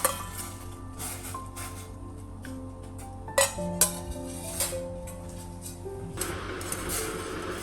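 Pork going into a pot for blanching, with clinks of metal and dishware and a few clattering knocks of utensils against the pot, close and moderately loud, no talk.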